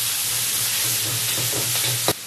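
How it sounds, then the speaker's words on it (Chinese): Aromatics stir-fried in hot oil for sauerkraut fish, a loud steady sizzle with a low hum beneath and a sharp utensil knock near the end. "油热后加入小料炒香"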